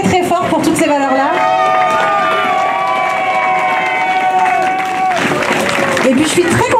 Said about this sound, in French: je voudrais qu'on l'applaudisse encore très très fort pour toutes ces valeurs-là